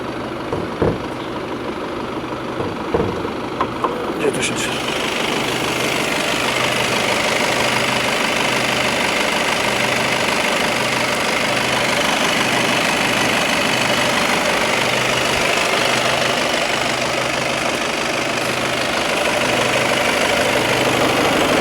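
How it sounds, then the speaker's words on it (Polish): A VW Passat B8 Variant 2.0 TDI diesel with a DSG gearbox starts with some clicks and handling noises, then settles into a loud, steady idle with a regular low, pulsing diesel clatter. "zobaczymy jak on brzmi ten silnik no powiem wam, że brzmi całkiem ładnie jak na diesla"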